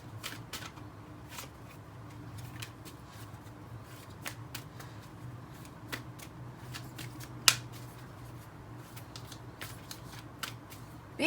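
Earth Magic oracle cards and Jane Austen Tarot cards are shuffled in a quiet room, giving soft repeated riffling flicks and light slaps at an irregular pace, with no talking.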